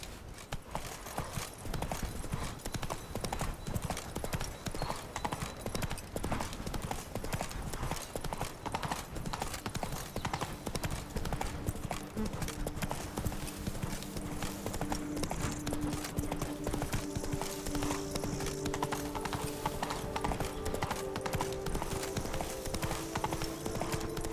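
Hooves of a galloping horse in The Witcher 3 pound in a continuous fast clip-clop rhythm, loud and close over game ambience, while low tones and faint voices rise later on.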